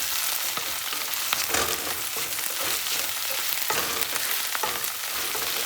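Ginger garlic paste frying in a hot pan, a steady, close sizzle with faint crackles and occasional stirring scrapes, no voices.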